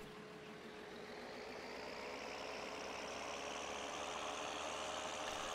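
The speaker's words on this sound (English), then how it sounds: "I'm going to use this tractor to pull it" A tractor engine idles in Farming Simulator 2013, a steady, fairly loud droning rumble with a faint tonal hum that slowly swells a little, with no voices over it.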